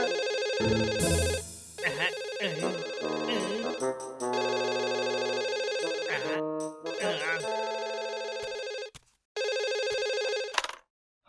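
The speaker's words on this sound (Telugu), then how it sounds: "ఫోన్ తీసి మాట్లాడడానికి ఇంత సమయమా?" A telephone ringtone in a cartoon plays loudly in repeating electronic bursts, with brief pauses and a few abrupt cutoffs near the end.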